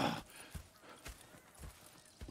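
Horse hooves clip-clop steadily in the video game Red Dead Redemption 2, about five evenly spaced soft thuds at a walking pace, fairly quiet and alone.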